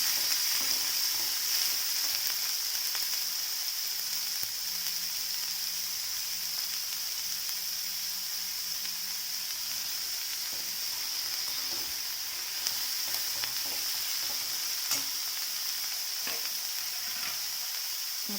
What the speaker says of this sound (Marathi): मोठा कांदा घेतला आहे मी आणि चांगला लालसर भाजून घ्यायला